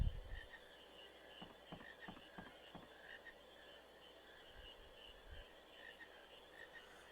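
Frogs croak in a Final Fantasy IX game scene, a run of several close, moderately loud croaks in the first three seconds, then scattered softer croaks over a steady background of game ambience.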